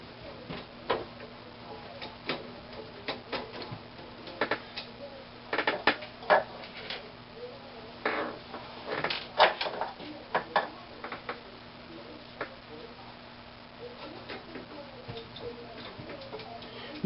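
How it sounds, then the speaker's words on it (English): Screwdriver bolting a component into a desktop PC case, heard as scattered small metallic ticks and clicks of varying strength, close and fairly quiet, alone without talk. "Then we're going to take a screwdriver so we can bolt this in here properly."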